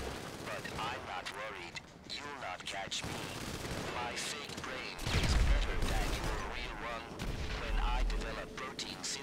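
Gunfire from a GTA 5 heist mission, dense and continuous, with heavier booming bursts mid-clip, mixed with game sound and faint voices.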